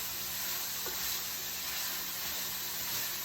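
Sausage meat for biscuits and gravy sizzles in a pan on the stove, a steady close hiss of frying with no talk.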